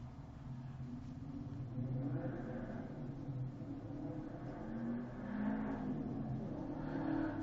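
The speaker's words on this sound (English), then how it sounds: "Sorry about the road noise." Road traffic heard through an open window, a steady low rumble with a few louder swells as vehicles pass by, continuous and moderately distant.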